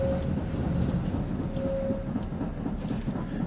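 An oncoming number 3 tram passes in the SIMT tram simulator game, a steady close rumble of wheels and running gear with a brief tonal whine, sustained at an even level throughout.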